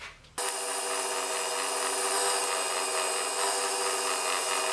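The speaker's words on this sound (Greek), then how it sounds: "Και τώρα ξεκινάμε το τρίψιμο με 400." Sandpaper of 400 grit rubs against a spinning apricot-wood hollow form on a wood lathe, a steady, loud, continuous hiss-and-whir that kicks in abruptly after a brief quiet start and holds evenly.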